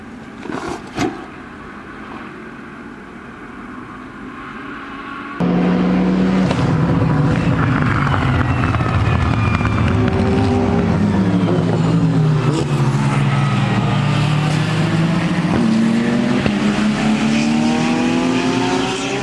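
Race cars at the 24 Hours of Spa: a quiet moment with a few faint knocks, then a loud, close engine roars in and holds, its pitch sweeping down and up through gear changes as more cars scream past.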